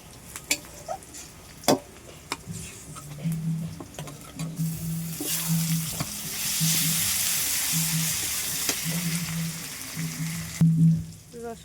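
Garlic frying in oil in a pan while chicken is cooked, with a steady broadband sizzle that swells midway and clatters with occasional stirring clicks and scrapes throughout, close and moderately loud.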